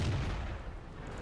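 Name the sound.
tank gun shots in video game World of Tanks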